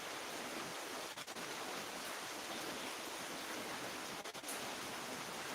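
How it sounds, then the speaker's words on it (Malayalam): Very heavy rain pours down in a steady, even roar of dense hissing noise with a couple of brief dips, no voices over it. "ഇതൊക്കെ മഴയുടെ ഒച്ച നിങ്ങൾക്ക് കേൾക്കാൻ പറ്റുമോ ഭയങ്കര മഴ അവിടെ"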